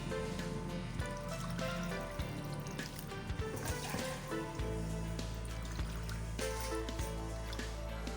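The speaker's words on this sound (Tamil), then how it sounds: "இப்போ நம்ம இதால் 3 கப்பு தண்ணி ஊற்ற போகிறோங்க." Three cups of water are poured into a pot for a homemade cold and cough herbal decoction, with a steady trickling pour running under background music.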